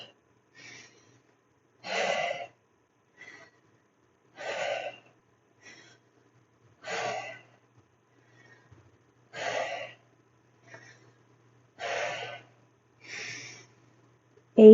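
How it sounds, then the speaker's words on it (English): Heavy breathing during a chest press exercise, with a series of strong, evenly spaced exhales or gasps roughly every one to two seconds. The breaths are close and alone against quiet. "Regulate that breath."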